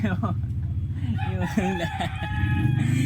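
A red junglefowl crows in rooster-like calls that rise and fall in a few bursts, fairly close, over a steady low background hum.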